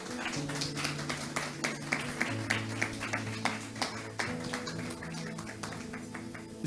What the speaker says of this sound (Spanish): Dale un aplauso fuerte a Cristo Jesús.